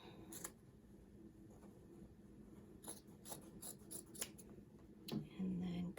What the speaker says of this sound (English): you can cut 2 little strips from your sleeves